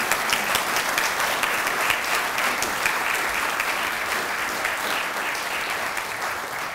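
An audience at an evening lecture applauds steadily for former Australian prime minister John Howard, a dense, even patter of many hands clapping that holds throughout and tapers only slightly at the end.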